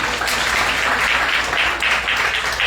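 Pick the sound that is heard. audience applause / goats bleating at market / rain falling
audience applause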